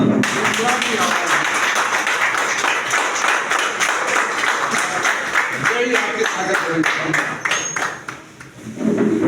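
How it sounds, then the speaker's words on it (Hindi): A crowd applauds at a railway workers' meeting held over a strike vote, dense continuous clapping at a loud level throughout with voices mixed in, dipping briefly near the end. "आप लोग जोरदार तालियों के साथ"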